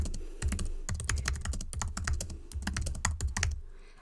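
Fingers type quickly on a computer keyboard, a close run of crisp key clicks in uneven bursts with brief pauses, ending abruptly near the close.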